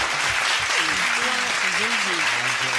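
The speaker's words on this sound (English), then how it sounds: "round of applause" A round of applause rings out in a podcast studio, a dense, continuous clatter of clapping with a voice talking over it throughout.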